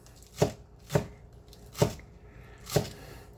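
Four evenly spaced knife strokes cut through fresh scallions on a cutting board, each one a crisp, close thud, with quiet pauses between them.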